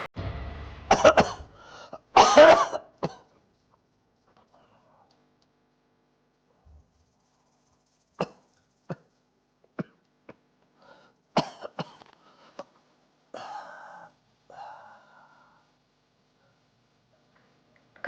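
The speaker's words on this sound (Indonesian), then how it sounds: "Batuk-batuk terus." A sick man at home coughs repeatedly, a couple of heavy rasping fits followed by scattered single coughs and throat clearing in an otherwise quiet room.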